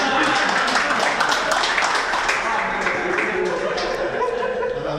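Attendees at a gold dinar and dirham study session at MR Center Depok clap for themselves, the clapping strongest at first and then easing under chatter and light laughter.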